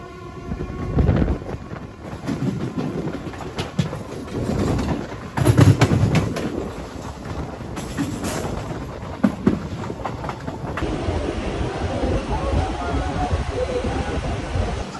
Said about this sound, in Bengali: অবশেষে আমাদের ট্রেন একদম ঠিক টাইমে সাঁতরাগাছি রেলওয়ে স্টেশনে 4 কিলোমিটার পথ অতিক্রান্ত করে